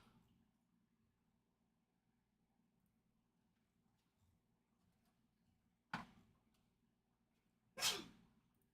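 Two sharp sneezes break a quiet room with a faint low hum, the second louder and closer than the first and coming about two seconds later.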